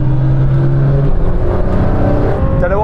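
A 900hp Porsche 911 Turbo S, a 1000hp Audi R8 and a 1000hp R35 Nissan GTR accelerate hard in a rolling drag race, loud layered engine roar with shifting pitch and a gear change, close and continuous.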